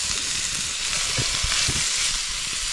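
Onion, potato and garlic sizzling steadily in a pan with little water, a continuous close frying hiss with faint stirring bumps underneath and no talk.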